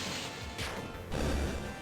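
A soundboard effect mimics glass shattering: a brief crash with a bright burst, then a second heavier smash in under two seconds.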